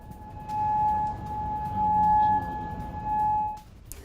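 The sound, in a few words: air raid alert siren in Kuwait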